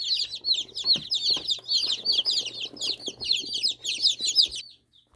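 A group of baby chicks peeps in a rapid, high, continuous chorus of shrill chirps close by, stopping abruptly near the end.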